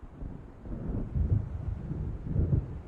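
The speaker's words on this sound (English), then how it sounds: "It seems there's a storm coming." Low, rolling storm rumble with wind in the video game Alan Wake, swelling in two broad surges around the middle and end, moderately loud with no talking.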